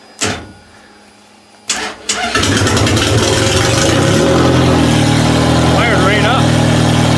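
A car engine starts with the starter cranking, then catches and settles into a steady idle that seems to run rich. Loud and close, with no talk over it.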